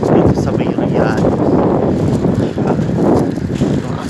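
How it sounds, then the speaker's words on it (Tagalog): Strong wind near Riyadh, Saudi Arabia, buffets the microphone with a constant low roar in the evening, with people talking underneath. "Sobrang lakas ng hangin guys."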